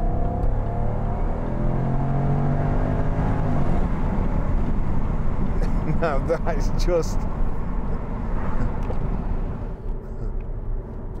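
2012 Jaguar XK 5.0 V8 engine accelerating from inside the car, a loud rising engine roar through gear changes, with someone talking briefly over it.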